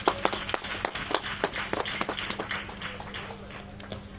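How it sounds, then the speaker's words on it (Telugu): An audience at a Christmas church message claps in uneven, sharp bursts, a loose scattering of hand claps rather than a full steady roar, fairly faint and distant. "గట్టిగా చప్పట్లు కొట్టు."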